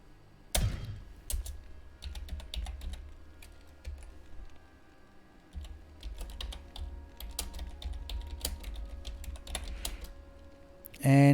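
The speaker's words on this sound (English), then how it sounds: "And my typing's as bad as ever." Computer keyboard typing in quick, uneven bursts of close clicks and taps, with pauses between runs and a low hum underneath, ending in a brief louder thump.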